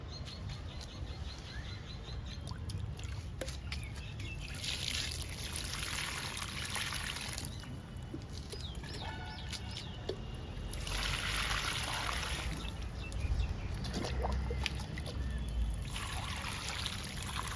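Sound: pouring water on kanakambaram (crossandra) plants in tubs

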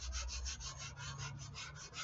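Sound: sanding a foam repair

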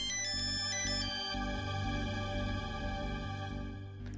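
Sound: phone ringtone ringing

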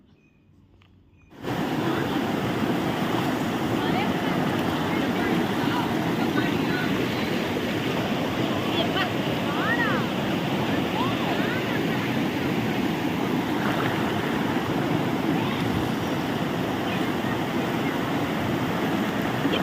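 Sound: waterfall at the foot of Kolli Hills

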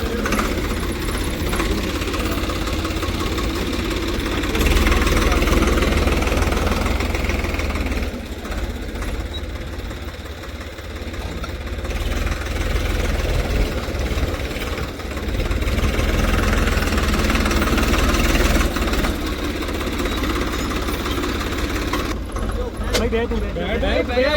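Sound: tractor engine pulling stuck cars out

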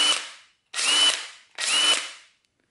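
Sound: cordless impact driver spinning

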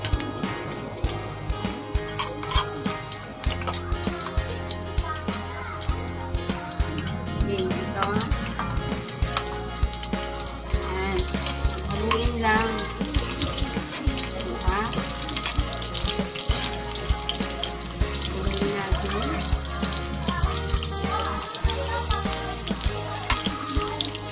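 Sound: garlic frying in hot oil for fish sarciado

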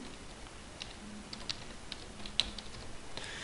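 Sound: typing a keyword on a computer keyboard

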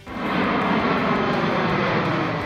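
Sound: low hum of airplane engine

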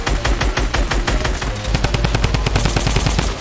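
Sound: gunfire from players shooting in the video game Fortnite

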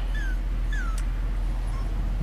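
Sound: dog whining

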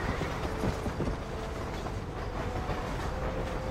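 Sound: train passing in video game Red Dead Redemption

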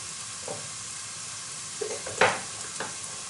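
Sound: frying onion and bell pepper in a pan

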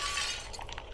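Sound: glass breaking in a horror video game

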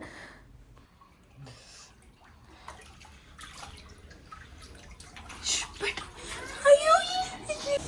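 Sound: heavy rain water overflowing into a flat in Dubai

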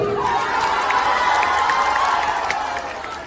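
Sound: audience clapping and cheering

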